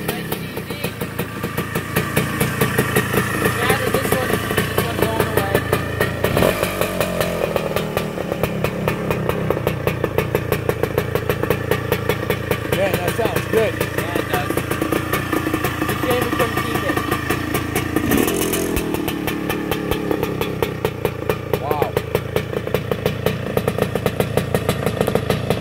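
Kawasaki KX250 two-stroke dirt bike engine runs with a raspy, buzzing idle and occasional blips of throttle, loud and close throughout, with people talking over it.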